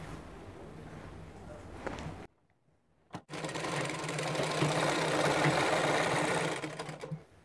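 A sewing machine runs in a close, steady whir while stitching palazzo pants. It stops briefly, gives a short click, then resumes a longer, louder run before slowing at the end.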